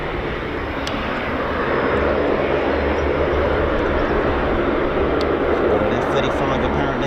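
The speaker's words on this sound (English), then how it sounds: "F-35 apparently. Low approach was that." An F-35 fighter jet on a low approach at RAF Mildenhall roars loudly and steadily, its engine noise swelling and holding for seven seconds, while people talk nearby.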